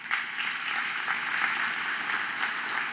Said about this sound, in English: So you all deserve a nice warm round of applause.